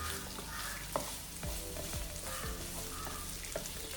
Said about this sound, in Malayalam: അപ്പോൾ അത് നന്നായിട്ട് ഒന്ന് 1 മിനിറ്റോളം നമ്മളത് വഴറ്റി കൊടുക്കാം